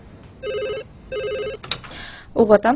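A telephone rings twice in an even electronic double-trill pattern, clear and close, followed by people speaking briefly over it.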